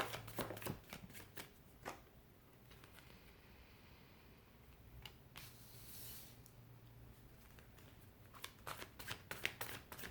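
Tarot cards being shuffled by hand, with soft riffling and flicking bursts that come near and fairly quiet at the start and again toward the end, and a quieter stretch of low rustle in between.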